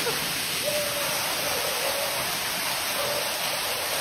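Water pours steadily at Eaton Canyon waterfall, a close, constant rushing roar filling the whole stretch without a break.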